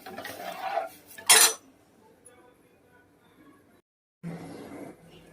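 A metal spoon stirs rasam in a pot, with a few scrapes, one sharp loud clink and then a quiet pause before more stirring resumes.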